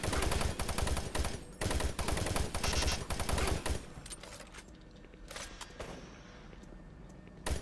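Bursts of rapid gunfire from enemies shooting at the player in the first-person shooter DOOM 3, loud and dense for about four seconds, then thinning into scattered shots and impacts.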